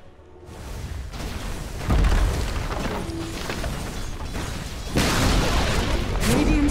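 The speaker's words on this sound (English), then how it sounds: "Radiant's middle tower has fallen." A Dota 2 tower collapses in a deep booming crash, followed by a second heavy impact a few seconds later over steady game ambience.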